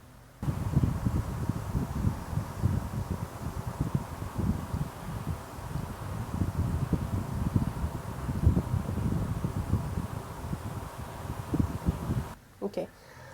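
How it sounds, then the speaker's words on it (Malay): A recorded effect of gentle wind plays as a soft, continuous rustling breeze with low gusty rumbles, steady for about twelve seconds before cutting off. "Jadi bunyi angin ni adalah seolah-olah angin yang lembut."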